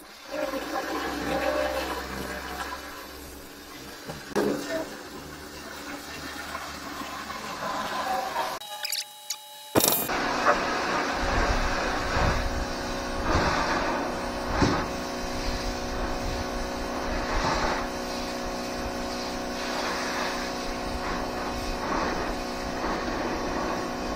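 A Greenworks pressure washer fitted with a turbo nozzle sprays. A steady hissing rush breaks off briefly, then returns louder and continues with a constant pump whine.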